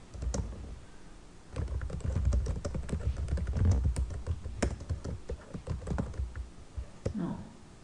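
Someone types steadily on a computer keyboard while writing in MS Word, producing a close, continuous run of quick clicking keystrokes with occasional louder key taps.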